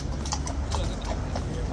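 A nervous horse passing through a gate, its hooves clip-clopping in a quick, steady rhythm, close and fairly loud against a busy outdoor background.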